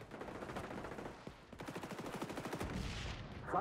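Rapid automatic gunfire from the shooter video game XDefiant, a dense rattling burst that pauses briefly around mid-clip before resuming loud and close, with no talking over it.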